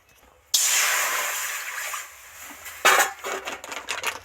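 Water pours into a kadai on a stove, a sudden loud hissing spray that lasts about a second and a half, followed by sputtering splashes and a few metallic clinks.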